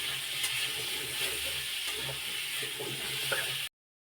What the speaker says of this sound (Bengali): দিয়ে দেবো কেটে রাখা কুমড়ো আলু, দিয়ে ভালোভাবে বন্ধুরা একদম লো ফ্লেমে কুমড়োগুলোকে ভালোভাবে ভেজে নেব।